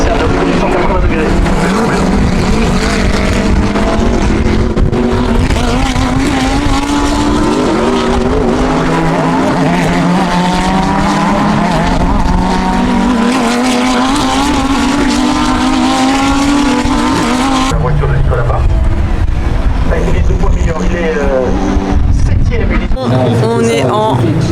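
GT3 race cars screaming past during qualifying at Magny-Cours, a loud continuous engine roar with rising and falling pitch as cars pass close by, one fading away before another approaches, with talk over the noise.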